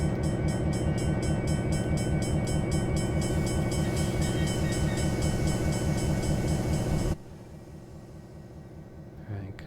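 A locomotive in a train simulator game set on Marias Pass rolls along with a steady, rhythmic rumble and clatter. The noise cuts abruptly to a much quieter background near the end.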